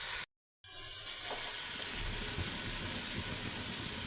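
Turmeric, coriander-cumin powder and red chili powder sizzle in hot oil for poha batata, a steady crackling hiss after a brief silent gap at the start, close and moderately quiet with no talking.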